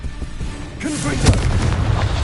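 A Confringo explosion spell in a Harry Potter game: a deep, loud boom erupting with rumbling blast noise that sustains and rolls on, after a short quieter lead-in.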